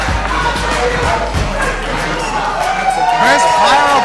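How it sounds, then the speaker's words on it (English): Crowd at a wrestling show cheering and shouting, a dense noisy roar close by with a commentator talking over it throughout. "Kris Pyro gets this whole crowd on their feet."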